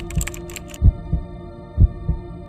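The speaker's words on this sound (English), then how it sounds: "A low throb you can feel in your ribs like a heartbeat" A low, throbbing heartbeat effect thumps in paired beats, deep and close, over a faint hum with a few brief higher clicks early on.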